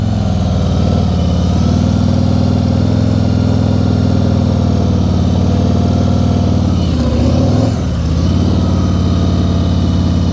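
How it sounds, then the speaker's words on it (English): A motorcycle engine runs steadily during slow-speed riding practice, a loud, close, even drone with a brief dip in revs near the end. "As soon as the motorcycle starts to move,"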